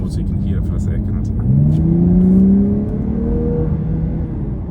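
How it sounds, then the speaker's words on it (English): A Lexus LC 500h hybrid in sports mode gives a steady mid-pitched engine drone that swells into a rising rev around the middle before easing back, heard from inside the car under low background talk. "let's put it in sports mode so you can hear it for a second."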